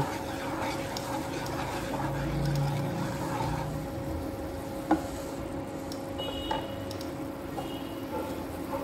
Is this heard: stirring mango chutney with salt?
yes